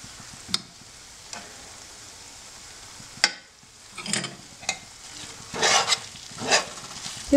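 Fresh ginger is stir-fried in sesame oil with tekka ingredients in a pan, giving a soft, steady sizzle. Sharp scraping stir strokes come at irregular intervals and grow busier toward the end, heard close with no talking.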